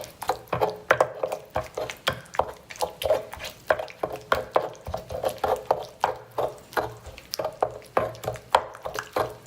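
Salsa verde being smashed and ground with a pestle in a stone molcajete, a steady rhythm of close, sharp grinding knocks repeating roughly twice a second.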